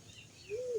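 A single short bird call rises and falls once, fairly clear over a faint background hiss, in jungle fowl trapping country.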